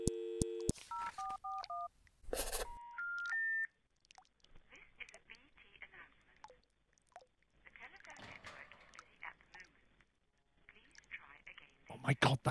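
Payphone dialing in the video game Landlord's Super: a quick run of distinct touch-tone beeps, a short loud burst, then a few more tones, followed by quieter clicks and someone talking.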